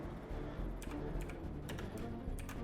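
Quick, irregular keystrokes on a computer keyboard as someone types slowly during a session of the text game AI Dungeon, with close, light clicks in short bursts and pauses over a low background hum.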